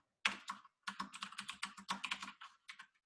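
Computer keyboard typing, a close, crisp run of quick key clicks in irregular bursts with brief pauses, alone in a quiet room.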